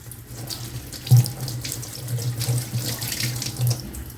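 Taro leaves for aluvadi are rinsed one at a time under a running kitchen tap, a steady close splash of water that swells and shifts as each leaf passes through the stream.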